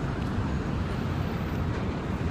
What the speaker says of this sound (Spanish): hay mucho ruido, es pleno día en la calle, carros acompañándome